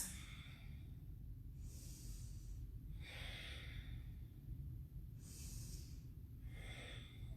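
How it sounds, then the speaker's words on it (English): Slow deep breaths during a yoga session, about four long airy inhales and exhales spaced evenly over a low steady background hum, close to the microphone. "Deep breaths."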